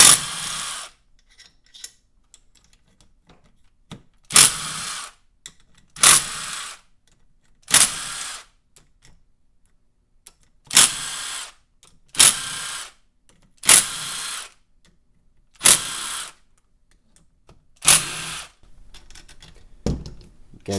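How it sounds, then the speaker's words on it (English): Short whirring bursts of a power tool backing out the perimeter bolts of the right-hand engine cover on a Yamaha YZ250F dirt bike, about ten loud separate runs with quiet pauses between them. "Can remove the perimeter bolts."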